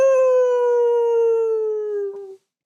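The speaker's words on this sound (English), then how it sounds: "A coyote howled in the distance." A single long, steady howl from a coyote, loud and clear, holding one pitch before sliding slightly lower and cutting off after about two seconds.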